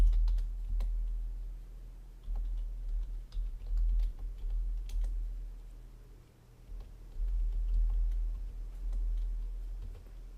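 Steady typing on a computer keyboard while entering text into a document table: quick irregular key clicks running throughout over a low hum, with no talking.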